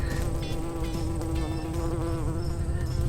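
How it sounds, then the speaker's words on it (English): A bee buzzing over apples inside a dumpster, a continuous close drone with wavering pitch that runs steadily throughout with no voices. "I almost grabbed this bee right here. It was on top of one of the apples."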